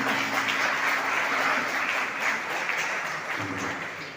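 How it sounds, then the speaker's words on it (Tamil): Audience applause at a public function in Coimbatore, a dense, sustained clapping from a crowd, fairly loud and continuous before easing slightly toward the end. "சிறப்பான கரகோஷங்களை கொடுத்து அவர்களை வாழ்த்தி வணங்குகிறோம்"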